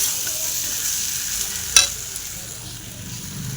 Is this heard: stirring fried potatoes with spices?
yes